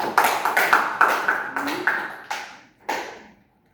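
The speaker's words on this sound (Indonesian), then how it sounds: "tepuk tangan dulu untuk Artika" A classroom of students claps for a classmate: roughly nine sharp, separate claps in a loose, slowing rhythm, each ringing briefly in the room before the last ones trail off into quiet.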